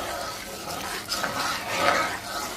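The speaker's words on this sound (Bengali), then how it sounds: "এটা দিয়েও একটু ভালো করে ভেজে নিব।" A roast spice mix for chicken fries in a pan with a soft, steady sizzle, while a spoon stirs and scrapes against the metal in a few brief clinks.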